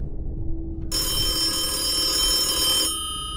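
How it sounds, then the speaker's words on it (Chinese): A telephone rings in the horror video game The Death: one steady, loud electronic ring lasting about two seconds that starts abruptly and stops abruptly over a low, quiet background hum. "这个时间谁打的电话？ 我必须接电话。"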